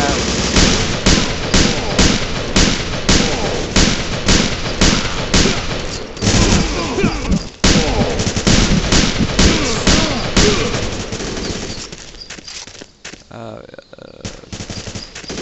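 Rapid bursts of automatic gunfire and single shots fill a Marine Sharpshooter 4 shooting game, loud and dense for most of the stretch before thinning into scattered shots near the end, with no voices over it.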